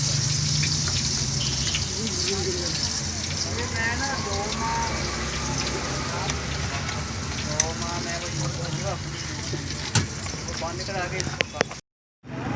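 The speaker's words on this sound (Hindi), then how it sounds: "ये बहुत ही अच्छे तरीके से फ्राई हो रहे हैं" Ladoo pithian frying in very hot oil in a full karahi make a steady loud sizzle and bubbling hiss that continues almost to the end, with someone talking over it.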